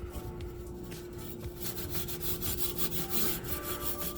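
Scrubbing inside a Ninja smart double oven, a steady close rubbing scrape with rhythmic strokes that grow a little louder toward the end.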